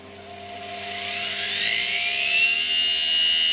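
A supercharged belt sander's motor spins up under speed control, a rising, steadily louder whine climbing in pitch over a constant electrical hum.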